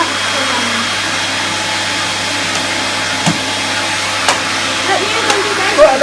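A 1980s Hoover Spirit S3261 vacuum cleaner with a Quadraflex Powermatic head runs with a steady, loud motor whine and airflow roar, broken by a few brief clicks and knocks near the end.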